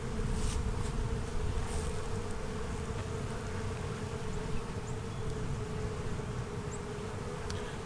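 Honeybees buzz in a dense, steady drone from a packed spring hive during a box upgrade, heard close up and continuous with no talking.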